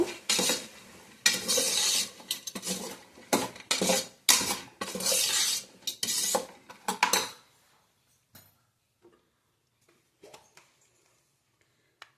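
Avarekalu beans and vegetables frying in oil for pulao while a spoon stirs them, making loud bursts of sizzling and metallic scraping for about seven seconds. Sparse faint clinks follow in near silence. Nobody speaks.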